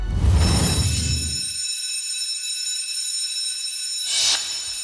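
A fire alarm rings loudly with a steady metallic bell tone sustained for several seconds, alone with no speech, a brief burst of noise at the start.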